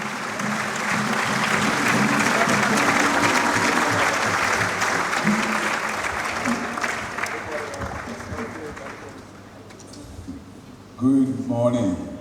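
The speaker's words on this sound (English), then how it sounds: "Please, a round of applause. Let it ring in the entire auditorium." A large audience in an auditorium applauds loudly and steadily for about ten seconds before the clapping fades, followed by a brief burst of speech near the end.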